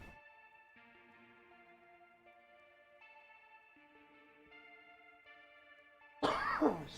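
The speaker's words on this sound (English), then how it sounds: "The cold dry air makes me cough." Guitar-like sustained tones hold softly in the background, then a sudden loud cough bursts in near the end, close to the microphone, a single harsh throat-clearing cough.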